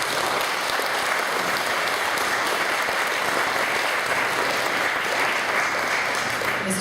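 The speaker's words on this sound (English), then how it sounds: "A round of applause for our guests," A round of applause for guest panelists at a post-election chamber event, a dense, continuous roar of many hands clapping, loud and steady from start to finish with no talk over it.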